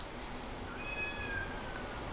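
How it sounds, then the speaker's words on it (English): A cat meows somewhere in a quiet indoor room, a short thin cry of about a second set against steady background hiss, faint and distant rather than close. "There's a cat that's meowing."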